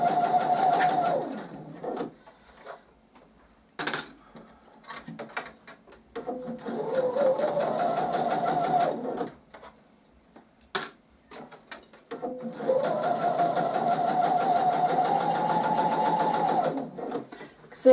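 A sewing machine stitches a pillowcase seam in three long runs through folded fabric, its fast even whirring broken by short pauses, with speech in the gaps.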